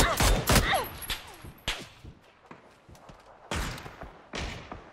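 Gunfire in PUBG Battlegrounds squad play, several sharp shots and bursts scattered across a few seconds at moderate level, with quieter thuds in between.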